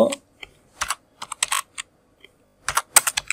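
Keys on a computer keyboard clack in short irregular bursts, close and crisp, with pauses between clusters of keystrokes as a word is typed.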